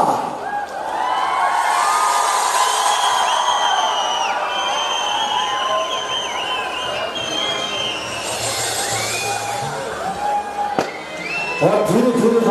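A festival crowd in Himachal Pradesh cheers and applauds as a singer is welcomed. Sustained loud cheering and whistles fill the space with a dense crowd roar, and some voices call out near the end.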